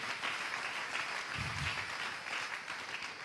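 A church congregation applauding, a steady wash of many hands clapping that stays fairly even and slightly distant throughout, with no speech over it.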